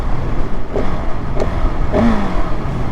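A 2024 KTM 690 SMCR single-cylinder motorcycle with its stock exhaust, a loud close engine note that idles and blips with a throaty rumble.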